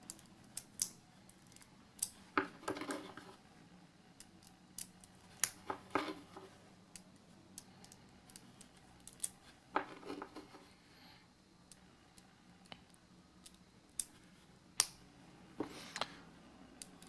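Small Zen Magnets spheres squeezed together into offset layers while building a fidget spinner, giving sharp, sparse clicks and ticks at irregular intervals, close and fairly quiet, with no talking.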